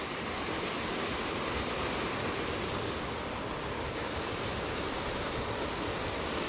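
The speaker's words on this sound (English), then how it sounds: "But there's the main waterfall, the horse's tail, where it fans out." Horse's Tail, the main waterfall at Davidson's Linn, fans out in a steady, dense roar of falling water that stays constant and fairly soft throughout, with no voices.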